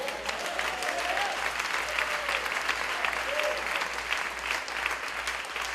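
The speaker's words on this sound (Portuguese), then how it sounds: "Quem crê nisso, aplauda o Senhor." A large church congregation applauds steadily, dense clapping sustained at an even level throughout, with faint voices mixed in.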